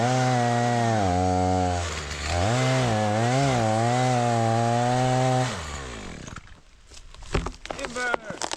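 A chainsaw cutting down a tree runs as a loud, steady engine drone with rising and falling revs for about five seconds, then cuts out, leaving scattered knocks and rustling.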